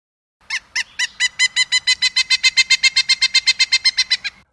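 A bird call clicked in the Dinosaur Train backyard theropods game: a loud, clear run of about twenty evenly spaced nasal honking notes, close and alone against silence.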